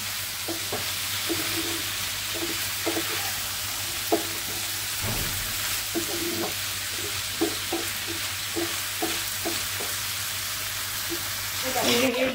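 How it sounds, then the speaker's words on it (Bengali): Vegetables frying in a pan, with a continuous sizzle overlaid by repeated scraping and stirring strokes at an uneven rhythm, close and fairly loud; faint background talk. "এই যে ভাজি করতেছি"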